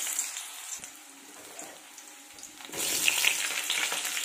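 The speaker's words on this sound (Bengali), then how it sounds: "এখন আলুগুলো দিয়ে দেবো তেলের মধ্যে।" Potatoes dropped into hot oil in a wok, a quiet crackle that swells into a louder, continuous sizzling hiss near the end, close and without talk.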